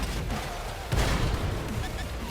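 Tank cannon fire in World of Tanks: a dense, booming blast with rumbling tail and a sharper hit near the middle, over a constant noisy game mix.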